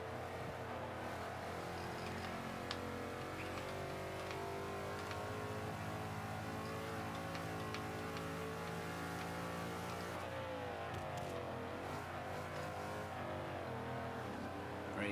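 A 2005 Ford GT on a warm-up lap in Forza 5 drones steadily close up, its engine revving and shifting through gears with a continuous, even roar across the whole stretch.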